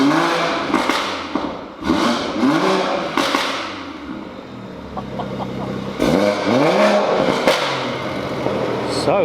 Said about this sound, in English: we're all ready to now hear the car